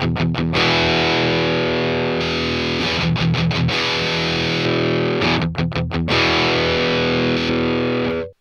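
An electric guitar runs through a PolyChrome DSP McRocklin Suite amp model with the boost switched off, playing sustained distorted chords with a few quick rhythmic stabs, loud and alone.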